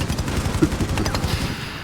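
Gunfire in the video game Rainbow Six Siege during a Six Invitational 2022 esports match on the Kafe Dostoyevsky map, rapid bursts of loud automatic shots in dense overlapping volleys, close and continuous.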